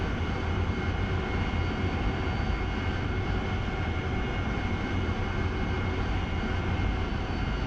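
A jet aircraft in the flight simulator DCS World at full throttle on the runway, a loud, continuous, unbroken engine roar with no voices.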